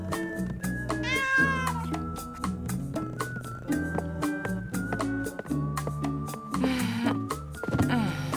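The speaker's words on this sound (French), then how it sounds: "c'est un bon chat, ça" A cartoon cat meows and yowls in drawn-out, wavering cries over a bouncy music score, fairly loud and repeated across several seconds.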